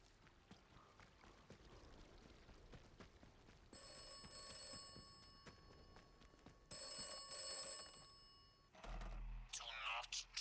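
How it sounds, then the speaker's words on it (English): A telephone rings inside the British adventure game Atomfall, two long bell bursts that are loud and close over a low game backdrop, followed by a heavy clunk as it is picked up. "Answer that phone, don't we?"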